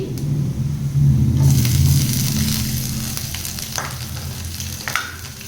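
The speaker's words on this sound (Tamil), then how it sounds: "எல்லாம் சேர்த்து வறுத்து எடுத்துக்கோங்க." Spices crackle and sizzle in hot oil in a pan for masala dosa filling, loud and close at first, with a low rumble underneath that gradually eases.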